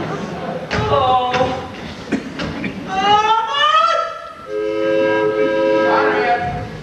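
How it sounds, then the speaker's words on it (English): A train leaving as a stage sound effect in a 1993 school production of Bye Bye Birdie: loud rumbling, thumping carriage noise and a sliding horn-like whistle, steady throughout the clip. "Mom, train's leaving."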